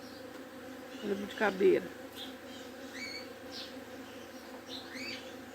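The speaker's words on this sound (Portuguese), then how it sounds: "olha o som das abelhas" Bees buzz around a flowering jaboticaba tree in bloom, a soft steady hum lying under a brief spoken remark, with a few faint bird chirps in the background.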